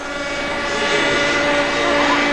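A radio-controlled model helicopter flies close by at a 1981 model flying meeting in Yverdon. Its small engine gives a loud, steady buzzing drone that holds constant throughout.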